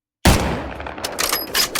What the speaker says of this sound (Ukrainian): там якась стрільба жорстка йде